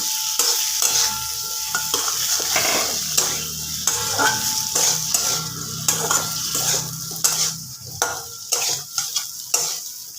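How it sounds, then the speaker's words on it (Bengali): Fried potatoes and pointed gourd tipped into hot spiced oil for a gourd curry, giving a steady loud sizzle with scraping stirs and a few sharp clinks of a utensil against the pan, with no voices. "আমি আলু পটলগুলো ভেজে রাখা এখানে দিয়ে দিলাম"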